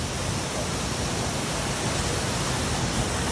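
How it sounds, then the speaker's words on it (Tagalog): TayTay Falls pours in a dense, unbroken roar of falling water, a loud and close broadband rush that holds steady throughout with no voices. "Dito nga ako sa may falls."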